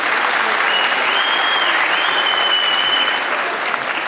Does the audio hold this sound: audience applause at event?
yes